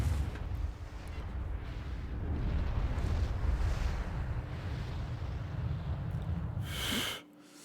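A missile blast in the video game Dragon Quest Monsters: Joker 3 produces a long, deep rumbling roar that builds and sustains, then ends with a sharp bright burst before cutting to near silence.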